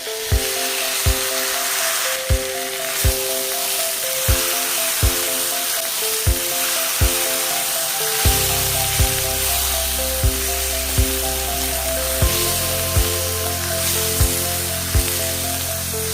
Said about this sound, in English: Now I'm adding in 4 big tomatoes, chopped really big, and about 4 to 5 green chilies slitted.